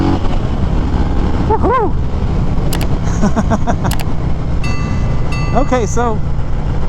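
A 2021 Harley-Davidson Fat Boy 114 rumbles steadily while being ridden, its engine drone constant under wind noise, with a rider whooping and speaking briefly over it.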